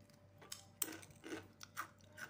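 Crunchy fried jengkol peyek being bitten and chewed close up, with several sharp crisp crunches spaced irregularly over about two seconds, loud against a quiet background.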